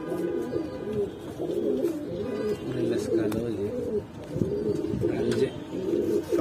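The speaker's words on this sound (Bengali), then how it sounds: "ওই নটটা দেখেন ডাকতেছে" A male pigeon coos repeatedly in close, throaty, rolling phrases with short gaps between them, other pigeons faintly in the background.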